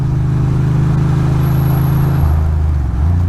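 A big Mercedes-Benz sedan engine hums steadily close by on a rainy road, a loud low drone that shifts pitch near the end as the car passes.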